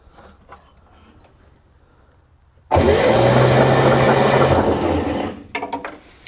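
A flooded 1965 Chevrolet Corvair 110 Monza engine is cranked after sitting: a sudden, loud, steady mechanical whir and churn lasts about three seconds, then cuts out, leaving faint clicks and rattles.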